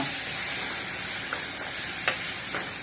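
A steady, loud sizzle of masala spice paste frying in a hot pan for chicken curry, with a couple of faint scraping stirs.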